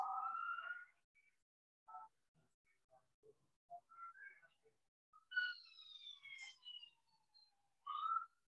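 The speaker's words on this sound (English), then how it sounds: "it's ambulance" An ambulance siren passes outside, heard faint and distant as a wavering, rising and falling wail that comes and goes, with quiet gaps between the calls and no talk over it.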